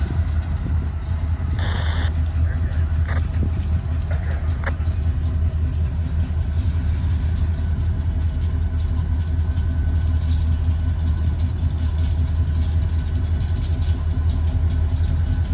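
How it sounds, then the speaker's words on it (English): Three diesel railroad locomotives ease out of a wye during switching, a steady low engine rumble holding for the whole stretch, with a few brief higher tones early on. "they're coming out of the Y right now. 3 locomotives here."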